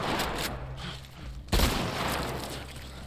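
Gunfire in The Last of Us, a single sharp shot bursting out midway over a low game ambience, fairly loud and brief, with no talk.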